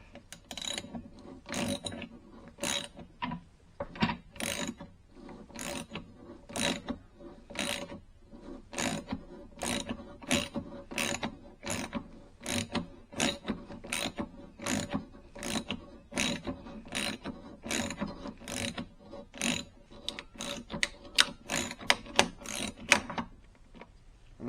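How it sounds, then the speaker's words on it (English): Ratchet wrench spinning a homemade oil filter cutter around a filter, a steady run of sharp, close clicks and turning strokes repeating for the whole stretch with no talk. "I'm just going to use a ratchet on the top there and just spin him around"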